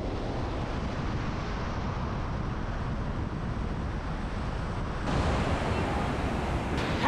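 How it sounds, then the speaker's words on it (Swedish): A waterfall near Taupo rushes as a steady, broadband roar that is loud and close, growing fuller partway through, with wind buffeting the microphone. "Nu blir det vattenfall."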